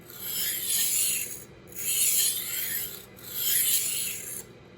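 A steel knife blade rolls through a tumbler knife sharpener, making three close, rasping scrapes, each swelling and fading with brief pauses between strokes.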